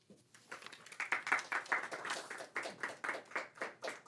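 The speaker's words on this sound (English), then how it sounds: "You don't have to clap for me." An audience at a poetry reading claps steadily for about four seconds, a dense patter of many hands that swells quickly and holds, with no talking over it.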